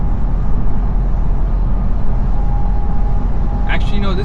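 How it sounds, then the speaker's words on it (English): A loud truck drives alongside a 2024 Ford F-150, heard from inside the cab as a constant heavy low rumble of road and engine noise, close and steady throughout. "I'm driving next to a loud truck."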